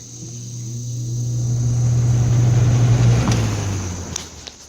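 A 1998 Lasko box fan starts up on high, its steady motor hum and rushing air swelling over several seconds to a full whir, with a couple of small clicks near the end.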